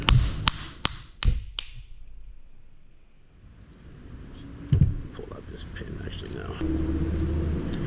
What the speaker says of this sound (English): Give it a light tap